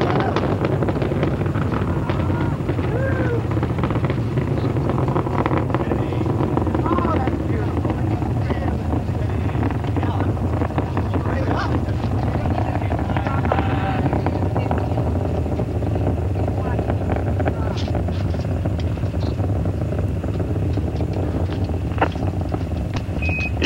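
Space Shuttle Endeavour on the STS-47 launch, its engines giving a continuous, dense, rumbling roar during ascent, heard under radio-style mission commentary.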